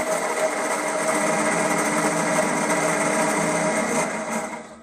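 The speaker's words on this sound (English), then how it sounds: "That's the starter motor working." A starter motor whirs steadily on a Toro GTS Recycler 6.75 HP self-propelled key-start lawn mower with a stripped plastic gear cog, a loud, even high-pitched drone running close up for several seconds before fading slightly at the end.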